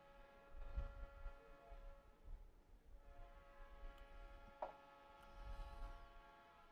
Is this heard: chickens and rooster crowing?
no